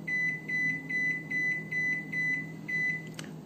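An oven being set to preheat to 170 degrees beeps in a regular pulsing pattern, about eight short high electronic tones in a row, then a brief click-like chirp, over a low steady appliance hum.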